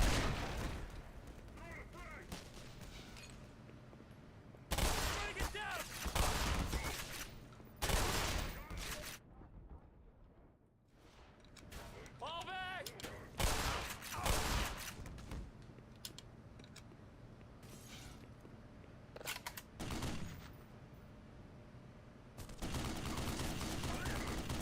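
Automated turrets in Black Mesa pour out bursts of rapid gunfire, loud clattering volleys alternating with quieter gaps and mechanical creaks, the shooting returning in waves while someone talks over parts of it.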